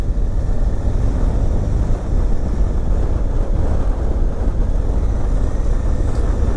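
A 2017 Honda Africa Twin motorcycle on the move, with steady wind roar buffeting the microphone over a low engine and road rumble that holds constant and loud throughout, no one speaking.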